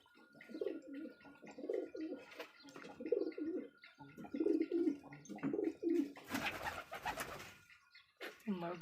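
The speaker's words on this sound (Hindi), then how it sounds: "कबूतर मस्ती करते हुए।" Pigeons coo repeatedly in throaty, rhythmic bursts close by, with scattered chirps and a brief loud flutter of wings, kept alongside rabbits.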